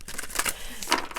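A deck of clarifier cards is shuffled by hand in quick, close riffling bursts, with a few sharp flicks and snaps of card edges.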